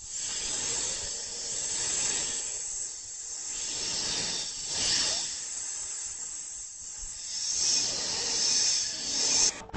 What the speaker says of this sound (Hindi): तभी अचानक सांप के फुफकारने की आवाज उसके कानों में पड़ी।